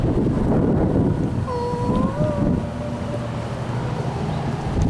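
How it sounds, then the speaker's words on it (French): Icy cold wind blowing steadily and loudly against the microphone in the southern lands of Chile on a sunny day, a continuous broadband roar lasting throughout with a few faint tonal whistles riding over it and no talk. "mais un vent glacial"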